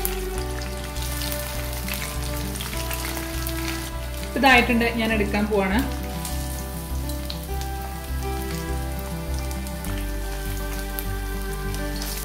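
Mayonnaise chicken popcorn pieces deep-frying in hot oil, a steady, dense crackling sizzle heard close and continuous, with a brief burst of clattering as the pieces are turned, while someone talks in Malayalam over it.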